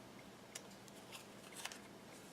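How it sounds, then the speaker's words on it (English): Scissors snipping ribbon while trimming a stamped snowflake card, a few faint, short clips scattered over a soft background hiss. "we're going to take the scissors and trim just a little bit off"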